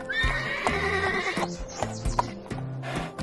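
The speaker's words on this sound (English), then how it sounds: "The horse." A horse on a farm whinnies loudly and close by, its neigh trailing off while hooves clip-clop in an irregular rhythm underneath.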